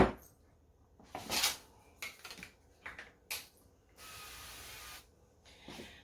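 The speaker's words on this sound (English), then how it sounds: "I'm going to spray a little more olive oil on it" A steady hiss of olive oil spray lasting about a second, aimed onto carrots, with clinks and light handling noises of kitchenware before and after it, close by.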